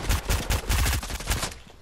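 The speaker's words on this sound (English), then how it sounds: "Oh, someone's shooting us!" Rapid bursts of gunfire in Fortnite during a duo match, repeated close shots in quick rhythmic volleys that taper off toward the end, with no talk over them.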